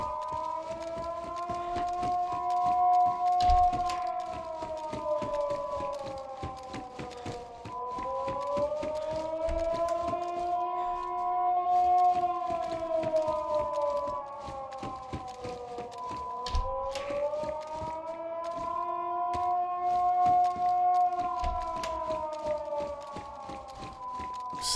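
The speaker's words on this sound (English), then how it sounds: "That's one loud ass siren." A loud wailing civil-defense-style siren in the DayZ video game on the Deer Isle map, rising and falling in long sweeping cycles over a thumping, clattering background.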